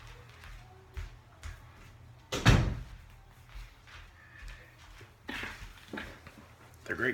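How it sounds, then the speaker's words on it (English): A door swings shut with a single solid thud, surrounded by quiet room noise and faint movement. "I'm going to close the door."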